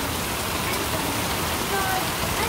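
Steady rain falls outdoors in a dense, constant hiss of drops, fairly loud and unbroken across the short stretch.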